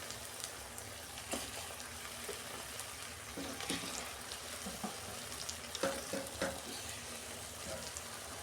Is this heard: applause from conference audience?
no